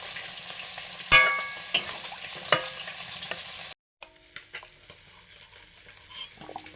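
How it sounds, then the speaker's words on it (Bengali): Scraping stirs of taro in a frying pan, with a few sharp clinks of a utensil against metal, under a faint sizzle, followed by quieter intermittent stirring after a brief silence. "হাতিয়ে দিচ্ছি"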